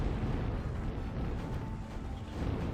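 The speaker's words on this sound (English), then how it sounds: "Over here, another bombing done just with ravens." Bombing run by Raven aircraft in the strategy game Zero-K, heard as a low, steady rumble of distant explosions blending together at faint volume without sharp individual blasts.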